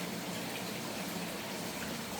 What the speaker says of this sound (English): We got this creek flowing through here.